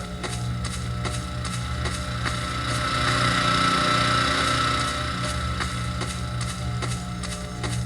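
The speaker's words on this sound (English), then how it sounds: "as we approach this generator, you should start to hear the sound of the generator" A generator runs steadily with a constant low mechanical hum and droning tones, loud and continuous with no talk, the sound swelling slightly in the middle as if drawing nearer.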